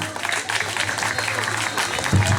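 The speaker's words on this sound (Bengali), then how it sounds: "তো সবার জন্য জোরে একটা হাততালি চাই আমরা।" A comedy show audience claps together in a dense, steady wash of applause that holds for a couple of seconds and swells slightly near the end.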